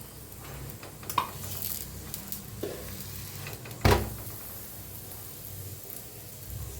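Puran poli fries on a pan in oil and ghee with a steady low sizzle. A few soft stirring or turning thumps come through, close and quiet, with no talk.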